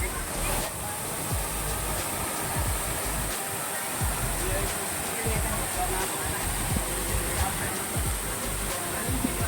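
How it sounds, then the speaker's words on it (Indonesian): Tirtosari waterfall near Magetan, East Java, roars as a steady broadband rush of falling water, close and continuous, with faint voices. "akhirnya kita sampai juga di air terjun Tirtosari"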